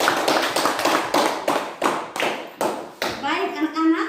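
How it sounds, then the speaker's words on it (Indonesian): Classroom of students clapping in rhythmic unison for a presenting group, about a dozen sharp, evenly spaced claps close by, ending as voices begin. "tepuk tangan untuk kelompok 3"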